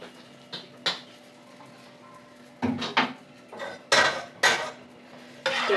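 A spatula stirs oil in a hot pan: a series of sharp metallic clinks and scrapes in uneven bursts, close and fairly loud, with quiet gaps between the strokes.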